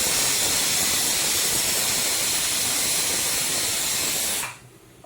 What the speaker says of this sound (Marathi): कुकर आवाज येतो